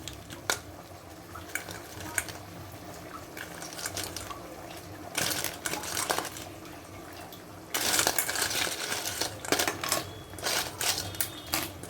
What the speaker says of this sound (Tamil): இப்போ நம்ம கழுவி சுத்தம் பண்ணி வச்சுருக்கிற நண்டை சேர்த்துக்கலாம்